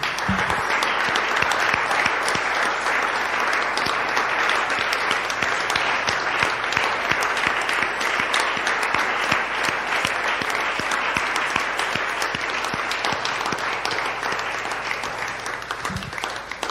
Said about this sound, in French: Une offrande d'acclamation pour tous ceux qui sont engagés.